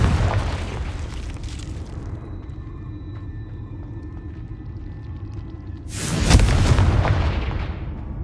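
The Confringo fire spell in the video game Hogwarts Legacy erupts in a heavy, loud booming explosion with a long rumbling tail, preceded by a low sustained rumble and faint tonal game sounds.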